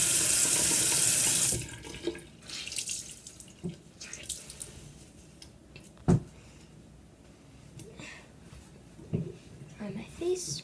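A sink faucet gushes loudly for a moment, then cuts off, leaving splashes and drips as someone washes their face at a sink, with a voice speaking quietly in between.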